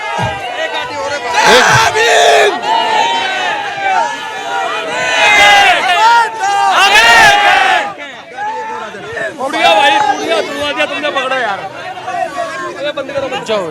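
A large crowd of young protesters shouts and cheers in loud, overlapping bursts near Burari police, with whoops and chanting rising and falling in waves and some voices calling out over the din.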